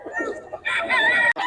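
Gamecock roosters belonging to Boss Jhun in Bocaue: one loud, close crow rises after a brief cluck-like sound, holds for about half a second and breaks off abruptly.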